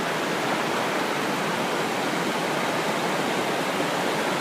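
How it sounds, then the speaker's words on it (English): Loud, constant rush of water pouring down Pistyll Rhaeadr waterfall in North Wales, a dense roar heard up close that stays steady throughout with no talking. "Whether you can hear me, I don't know, because the water's that loud, but it sounds beautiful."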